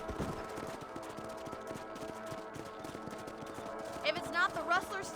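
Horses gallop in Red Dead Redemption, a rapid steady clip-clop of hooves under a busy layer of game music and ambient sound, with a brief brighter flurry near the end.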